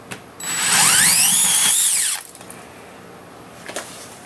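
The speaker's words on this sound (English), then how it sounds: "I'm going to line my drill up with the hole there." A power drill whines loudly for about two seconds as it drills into a wall for a toggle bolt, its pitch rising and then dropping as it bites in, then stops, leaving faint handling sounds.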